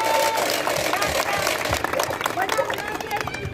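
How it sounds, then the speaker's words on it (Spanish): A crowd at a campaign rally for a local PRI candidate in the community of La Estrella claps in sustained, dense applause, with a voice talking over it. "Un aplauso pues a la maestra Lupita Guerrero."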